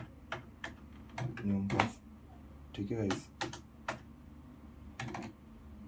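Keys on a Lenovo computer keyboard are pressed in irregular bursts of crisp clacks, close up, while someone talks over them.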